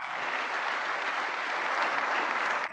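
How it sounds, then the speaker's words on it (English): Large audience giving a thunderous welcoming ovation for Prime Minister Narendra Modi, dense sustained clapping at steady loudness throughout, cutting off abruptly at the end. "Let's welcome Honorable Prime Minister Shri Narendra Modi with a thunderous applause."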